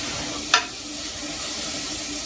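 Onions and vegetables sweating in a pan for a Trini corn pie, a steady soft sizzle with one brief sharp hiss near the start.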